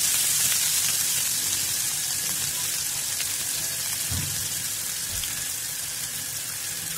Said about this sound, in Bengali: এগুলো একটু আমরা ভেজে নেবো, সাথে আমরা গাজরটা দিয়ে দেবো।